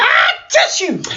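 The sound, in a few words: imitated sneeze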